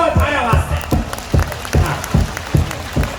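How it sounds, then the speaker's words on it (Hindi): Audience clapping at a religious gathering in Barmer, Rajasthan, heard as a series of rhythmic, evenly spaced loud beats under a loud crowd hubbub. "जोरदार तालियां हम बजाओ थारे वास्ते"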